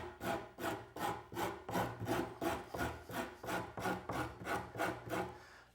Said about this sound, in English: I can now use a coarse file